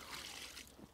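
Water is poured over a carp being cared for after capture, making a brief, soft trickling splash heard faintly and close by.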